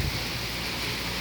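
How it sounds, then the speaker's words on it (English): Heavy rain pours during a windy storm near Spring Hill, Florida, a dense, constant hiss of downpour close by, unbroken across the brief stretch. "it's kind of a rain situation where there's just rain and rain and rain"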